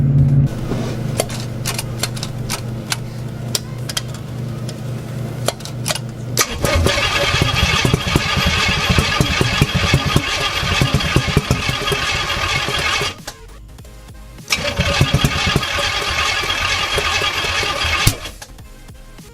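A balky engine cranks and sputters, then catches and runs roughly with irregular popping and possible backfires, cutting out briefly before restarting, loud and close with no voices.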